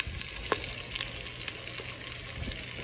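Seven bratwursts browning in butter in a Ninja Foodi Neverstick stock pot give off a steady, fairly quiet close-up sizzle and crackle, with a few small pops and no one talking.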